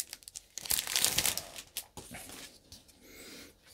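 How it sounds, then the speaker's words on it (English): Tape is peeled off a plastic comic book bag, giving close, crackly crinkling and short tearing bursts that swell and fade over a few seconds, alone without speech. "so let's get rid of the tape on the bag."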